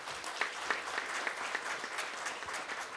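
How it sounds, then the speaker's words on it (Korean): An audience at a special session on regional diplomacy applauds to welcome a provincial governor, sustained, moderately distant clapping from a sizable crowd with scattered sharper claps, and no talk. "다시 한번 박수로 맞이해 주시면 감사하겠습니다"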